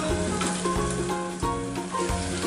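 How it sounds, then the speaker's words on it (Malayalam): Fried cauliflower in chilli sauce sizzles loudly in a pan for chilli gobi, with several close, rhythmic scrapes of a spoon stirring and tossing the mixture. "നന്നായിട്ട് മിക്സാക്കി കൊടുക്കുക"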